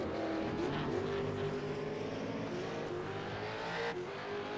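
V8 Supercar race cars at Barber Motorsports Park, including the number 20 Home Depot car, roar continuously at close range, engines holding a loud steady note with slight rises and dips under throttle.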